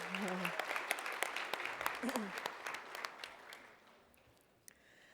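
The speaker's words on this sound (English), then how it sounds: "Let's give them all another round of applause if we can." Audience applause at a city Black History celebration in Tampa, a broad wash of clapping that is full at first and gradually thins and fades over about five seconds, with a few voices faintly mixed in.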